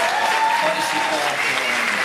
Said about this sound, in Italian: anzi facciamoci un applauso.